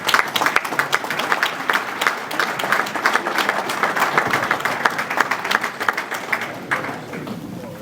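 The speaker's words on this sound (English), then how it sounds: "Another round of applause, please, to our hardworking track crews." A banquet crowd at Ransomville Speedway claps steadily for the track crews, with dense, sustained applause throughout that tapers slightly at the finish.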